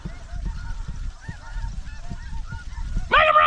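A flock of Ross's geese honks during a spring snow goose hunt, with many overlapping calls throughout and a louder, closer burst of honking near the end.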